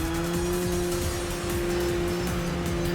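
Race car engine from the Enthusia video game droning steadily through a corner with tires squealing, loud and continuous in game audio for about three seconds, with no one speaking.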